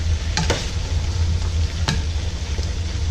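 Beef coated in cornstarch fries in a pan for orange beef, a loud continuous sizzle and crackle with a few sharper pops and stirring knocks, no voices.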